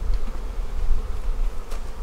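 Honeybees buzz around beehives being combined into a bee barn, a dense, continuous close drone of many insects with a low rumble underneath.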